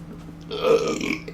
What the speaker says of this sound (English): Wet burps.